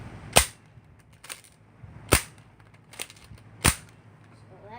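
A green Nerf Zombie Strike X-Shot six-barrel blaster fires four sharp, snappy pops spaced roughly a second apart, close and loud against a quiet room.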